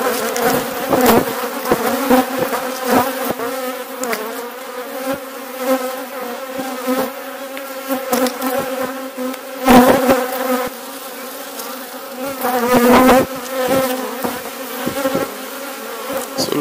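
Honey bees buzz loudly and continuously around an open hive during a beekeeping inspection, a dense droning hum with rising swells as bees pass close.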